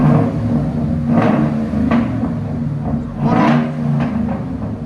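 A 2013 Ford F-150 with a 5.0L V8 on true dual exhaust and Netami NTR Racing mufflers revs hard twice, each throttle blip swelling from a steady deep idle rumble and falling back, close and loud.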